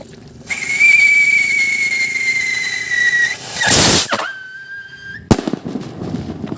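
A 20-gram firecracker lets out a loud, rising whistle, then a sharp hissing burst, then a second shorter whistle and a crisp bang, all close and very loud.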